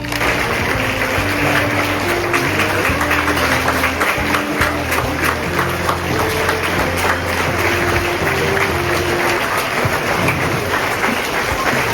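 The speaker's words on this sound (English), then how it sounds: "So give them a huge round of applause." Large audience at a school Raksha Bandhan celebration applauding to welcome Indian Army soldiers, a dense, sustained wash of clapping held at an even, loud level throughout, with a faint tonal hum beneath.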